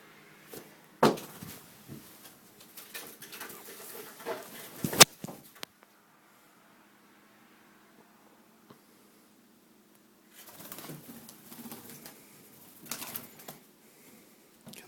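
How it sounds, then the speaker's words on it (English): A bird loose indoors flutters and flaps about, two bursts of close wing beats and rustling clatter separated by several seconds of near silence, with no voices. "So hopefully, when the bird comes flying back through, I can go direct him out the door."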